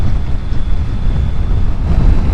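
Wind buffeting a rider on a 2024 Triumph Tiger 900 Rally motorcycle, a loud, dense low rumble of microphone wind noise, steady and close, with no engine or voices standing out.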